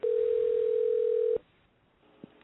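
A single long, loud telephone ringback tone sounds for over a second during an outgoing call, then cuts off into quiet line noise with a faint click.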